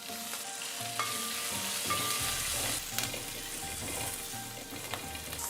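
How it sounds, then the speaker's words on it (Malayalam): Curry leaves and home-grown green chillies sizzle loudly in hot oil in a pan while being stirred, giving a dense crackling hiss with a few sharp pops and scrapes. "ഇനി കുറച്ചധികം കറിവേപ്പില ഇട്ട് കൊടുക്കുന്നുണ്ട്."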